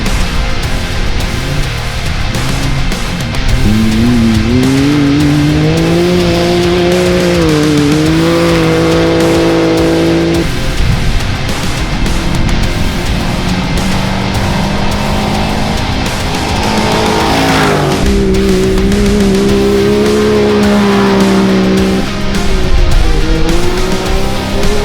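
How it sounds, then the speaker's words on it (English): Off-road race cars at the Bencubbin 400 desert race roar loudly and continuously, engines revving and shifting pitch as they pass close by, with tire noise and no talking. "As the pro lights hit the track, Stephen Kettridge Hall would jump to the top of the timesheets"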